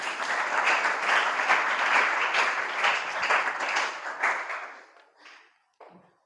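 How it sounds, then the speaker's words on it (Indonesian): Seminar audience applauding together, a dense steady clapping that fades out over the last second with a few scattered final claps. "Tepuk tangan untuk kita semuanya hari ini."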